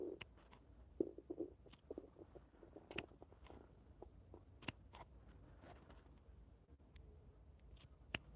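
Quiet, irregular clicks of scissors snipping, close by, scattered across the stretch with soft rustling of fabric in between.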